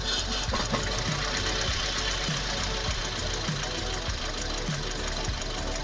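Car engine idling with two ignition leads loosened on the spark plugs, running rough with an uneven, knocking rhythm; a steady close mechanical drone with no voices.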